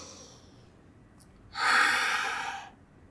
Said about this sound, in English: Catch your breath, or more like it, my breath.